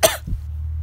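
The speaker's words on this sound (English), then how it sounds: "Sorry, I had to cough." A single sharp cough, close and loud, followed by a low steady hum.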